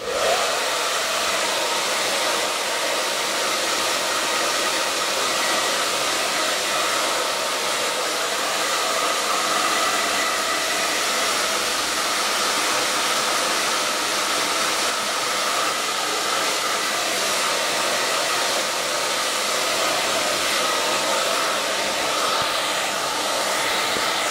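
A hair dryer blows on mousse-styled hair while the head is turned upside down, giving a loud, steady roar that runs unbroken throughout with no talking.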